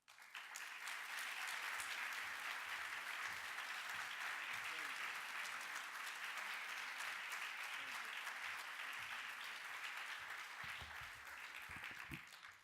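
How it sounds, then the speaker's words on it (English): Sustained audience applause at a book fair evening for an author, a thick, continuous roar of clapping from a large crowd that swells in quickly and fades at the very end. "Thank you for clapping."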